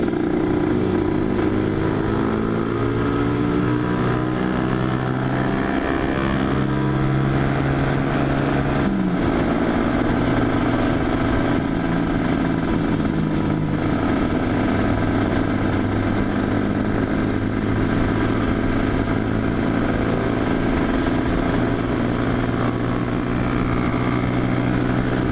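A Honda NSR 150 two-stroke motorcycle with a standard exhaust and a slightly enlarged header runs steadily for the whole stretch, a continuous buzzing engine drone with little change in pitch and no voices.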